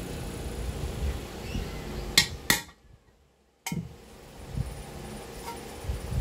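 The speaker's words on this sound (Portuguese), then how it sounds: "Vamos pegar um martelo. Vai bater aqui em cima, pessoas, ó." A hammer strikes a rivet pin on the handle of a leaking pressure cooker, giving two sharp metallic taps, a brief silence, then another crisp hit against steady background hiss.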